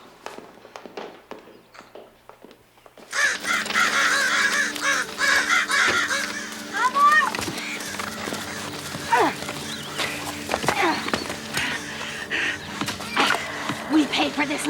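Crows caw repeatedly outdoors on rural land in a horror film scene, harsh calls rising over footsteps and background noise while people talk nearby.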